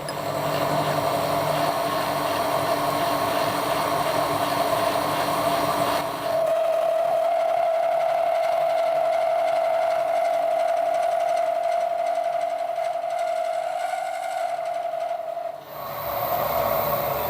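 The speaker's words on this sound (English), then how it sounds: "What we'll do, we'll put a slot down it." A milling machine cuts a slot into a Vivor machine vise, giving a steady, loud, high mechanical whine over a grinding hum that holds for about nine seconds and then stops abruptly. No one speaks.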